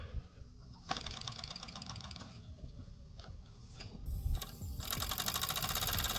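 A classic 1970s Mamod SW1 live steam wagon engine chugs in rapid, even mechanical beats, faint and close, running in reverse, with a hiss brightening toward the end.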